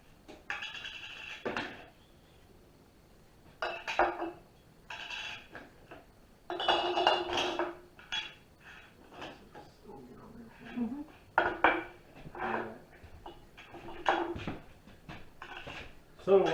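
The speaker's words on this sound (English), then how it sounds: "So while we're getting the jars ready to get them sterilized and get them in the oven" Glass canning jars and lids being readied for oven sterilization before canning deer meat: bursts of clinking glass and rattling metal lids, near and irregular, separated by quieter gaps, with a person talking intermittently.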